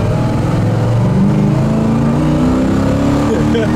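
A 1967 Pontiac GTO with a four-barrel V8 and four-speed revs and pulls hard, a loud, steady engine roar with a rising pitch that fills the whole stretch, heard up close.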